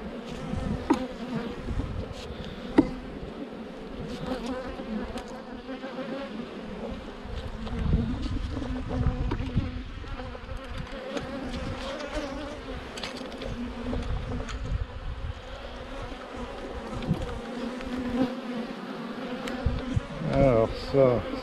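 Honeybees hum steadily at an opened queen-rearing nucleus hive, a continuous close buzz with individual bees passing near, and a few scattered handling noises mixed in.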